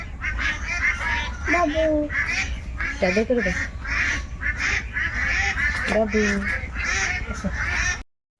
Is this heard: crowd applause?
no